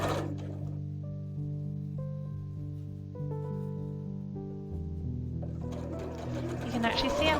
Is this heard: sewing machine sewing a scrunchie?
yes